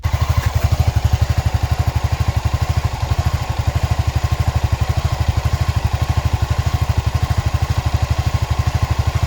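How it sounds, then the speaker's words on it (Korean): Honda ADV350 scooter idling with a steady, rapid low exhaust pulse throughout, close and fairly loud, with a faint mechanical clatter over the beat. "저 같은 경우는 그래도 이 배기음 소리는 나쁘지 않은 것 같아요"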